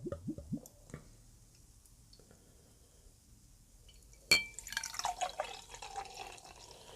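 A short glugging rush as Stewart Brewing's Cascadian East pale ale, 5.4% ABV, is poured from a can or bottle into a glass, followed by foamy fizzing and a faint clink, quiet and close with no talk.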